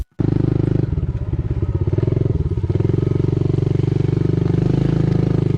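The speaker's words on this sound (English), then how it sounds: "Moto, a TikTok user known for his exciting dirt bike adventures in Oregon's beautiful wilderness" Dirt bike riding through the Oregon wilderness: a loud, close single-cylinder engine putters and revs in a steady pulsing rhythm, with clattering surges as the throttle opens partway through.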